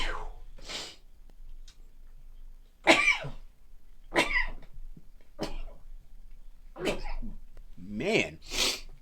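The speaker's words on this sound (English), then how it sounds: "Whew, that was like 7 sneezes in a row." A man sneezes repeatedly, about seven loud, close bursts spaced a second or so apart over several seconds, each sharp onset trailing off, with a few breathy gasps between them.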